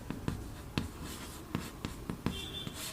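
Hand writing on a board during a chemistry lecture on carbocation stability, heard as a series of sharp, irregular taps and short strokes, close and clear with no talk.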